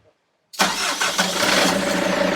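A sailboat's marine engine cranks and catches after its starter battery was left to recharge, bursting in abruptly from silence and settling into a steady, loud running rumble close by.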